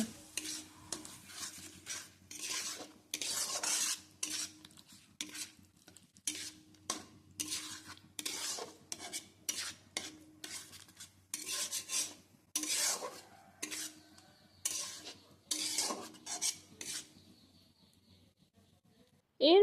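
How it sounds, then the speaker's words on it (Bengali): Potatoes and spices are stirred in a frying pan with freshly ground tomato paste, producing rhythmic bursts of scraping strokes over a soft sizzle, repeated steadily for a long stretch with no talking. "এই টমেটো বাটাটা দিয়ে সব কিছুকে আবারও ভালোভাবে কষিয়ে নিতে হবে"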